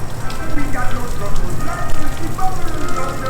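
Heavy rain falling on a rainy Sunday near a ferry and park, a dense, steady hiss of drops hitting surfaces, loud and close, with people talking faintly underneath.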